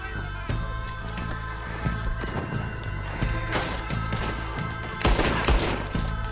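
Gunfire in Red Dead Redemption 2 during a distillery raid, with loud repeated shots and crashing bursts over a dense, busy game soundscape and a heavier volley near the end.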